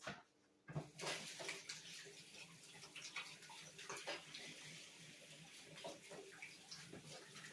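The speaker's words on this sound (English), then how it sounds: "Let me wash my hands." Hands being washed under a running tap in a home kitchen, a steady close splash of water with small rubbing and splashing changes throughout, fairly quiet, with no talking.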